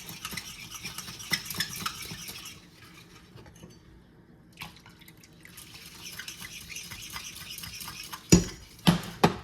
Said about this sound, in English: our milk and our sugar and cornstarch is stirred in